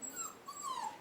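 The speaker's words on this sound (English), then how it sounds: "So she is crying" A female puppy gives a faint, high, wavering whimper, brief and soft, with nobody talking.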